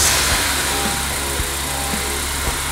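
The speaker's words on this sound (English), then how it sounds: "Start the car and let it idle for 15 seconds and check for leaks." A car engine idles steadily right after an oil change, a close, even hum with soft periodic knocks.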